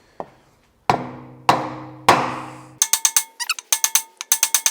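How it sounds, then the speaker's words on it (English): Hammer strikes on a block of wood, driving a shaft through a wheel hub on a tired V8 BMW E70 X5: three spaced heavy thuds, then a rapid run of sharp, ringing metallic knocks, close and loud. "I don't have that, so block of wood and a bit of hammering"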